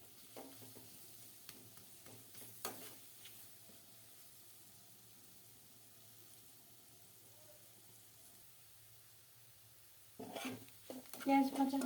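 Chopped onions frying in oil in a pan in a Bangladeshi village kitchen, a soft, steady sizzle with occasional stirring scrapes, growing louder and busier near the end.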